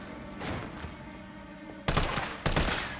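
Assault rifle fire in the Resident Evil 3 Remake game comes as rapid rattling bursts, fainter at first and then two louder close volleys near the end, with no talking.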